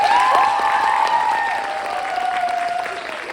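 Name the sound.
applause for the cast and crew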